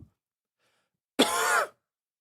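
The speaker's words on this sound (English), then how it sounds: "It sounded like a cough, that tackle challenge audio." A tackle sound effect from a football video game, a short harsh burst resembling a cough or throat clearing, heard once and loud against near silence.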